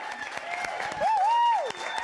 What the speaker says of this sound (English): Let's get some applause going as we bring our first performer to the stage